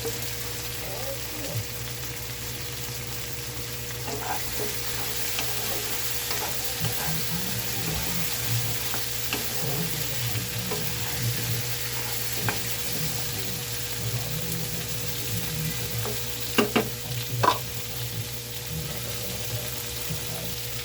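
Squash and string beans stir-frying in a pan for a coconut-milk vegetable dish, a steady close sizzle with occasional stirring clatter and utensil scrapes throughout, no talk.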